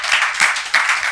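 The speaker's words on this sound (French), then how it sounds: "On peut applaudir pour eux, s'il vous plaît." A studio audience on a French television talk show claps in a brief, bright burst of applause, with a few swells in the clapping.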